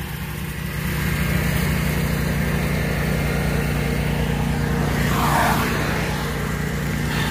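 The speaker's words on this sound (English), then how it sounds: "we're also going to test both mowers in this thick crap" SCAG V-Ride II stand-on mowers run through thick grass, their engines droning loud and steady close by, swelling slightly as they bog in the heavy growth.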